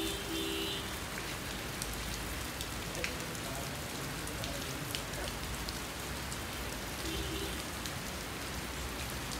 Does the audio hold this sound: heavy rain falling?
yes